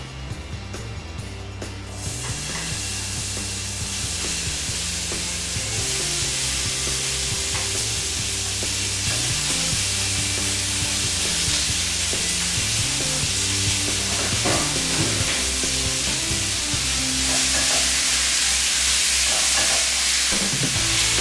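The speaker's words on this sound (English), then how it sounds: "we're just going to put the beef straight onto the hot pan and start mixing that into the oil" Beef sizzles loudly in a hot oiled frying pan over high heat, a constant frying hiss with scraping and stirring noises throughout, while music plays underneath.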